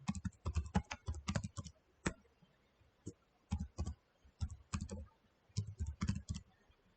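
Computer keyboard typing during an Ubuntu Linux installation, close bursts of quick key clicks with short gaps between groups of keystrokes.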